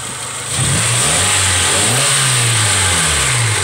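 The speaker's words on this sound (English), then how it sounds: "Now give it some gas." A car engine revving as the gas is pressed after an oil catch can install, rising from idle into a loud, sustained rev with the pitch climbing and falling close by.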